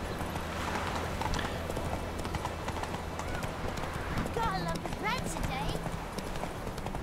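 Horse hooves clip-clopping at a quick pace in The Witcher 3, a steady rhythmic trot over a busy game soundscape with a brief whinny and someone talking over it.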